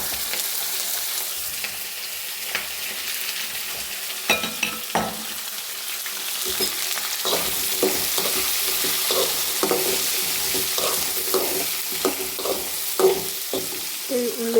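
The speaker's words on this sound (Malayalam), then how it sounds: "ഈ ഉള്ളിയെല്ലാം കൂടെ നല്ലപോലെ ഒന്ന് വഴറ്റിയെടുക്കണം." Sliced onions and coconut pieces sautéing in hot oil in a pan for a Malayalam-style breadfruit dish, a steady close sizzle broken by repeated scraping strokes of a spatula that grow busier toward the end.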